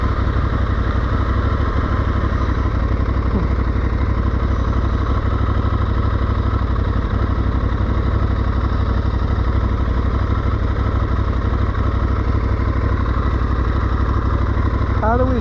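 An Aprilia Tuareg 660 motorcycle engine idles steadily and close by, a dense continuous rumble with a faint rising whine near the end.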